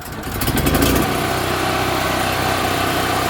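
A portable generator engine starts with a rough burst on choke, then settles into a steady, loud running drone close by with no talking.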